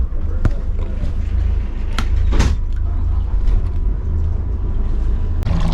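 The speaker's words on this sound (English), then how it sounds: "Moving to the helm, I fire up the engines." Twin marine engines on a sailboat idling at the helm, a steady low rumble filling the clip with a few clunks and clicks over it.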